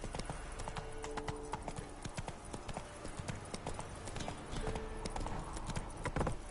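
Roach, the horse in The Witcher video game, gallops with rapid rhythmic hoof clip-clops, crisp and close over a quiet ambient backdrop, with no speech.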